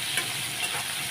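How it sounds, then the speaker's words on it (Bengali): Dried fish frying in a pan, giving a continuous close sizzle and crackle of hot oil, heard alone without talk. "তাই মাছটা আগে ভেজে নেব।"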